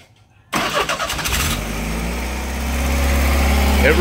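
A car engine cranks and catches after a brief silence, flares up loud and close, then settles into a steady rumbling idle through its exhaust for the remaining few seconds.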